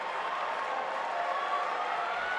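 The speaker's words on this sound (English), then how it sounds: "Crowd trying to get into it to support Herman here, and they like what they see." A college Division I wrestling crowd at a Minnesota vs Ohio 165-pound bout cheers in support of a wrestler, producing a steady, moderately loud roar of many voices that holds evenly throughout.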